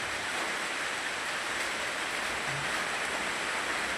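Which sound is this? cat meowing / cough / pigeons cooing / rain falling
rain falling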